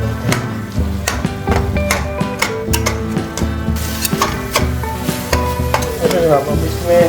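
Masala with dry coriander and tomatoes cooking in a pan for shimla mirch qeema, a loud close sizzle with constant rapid clinks and scrapes of a spoon stirring.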